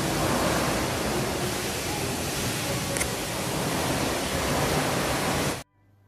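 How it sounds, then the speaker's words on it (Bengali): Hot spring water gushes out at the Karlovy Vary spa in the Czech Republic, a loud, steady roar of rushing water that fills the space and then cuts off abruptly. "দেখেছো কি স্রোতে গরম জল বেরোচ্ছে, প্রায় ছাদ অবধি পৌঁছে যাচ্ছে জলটা"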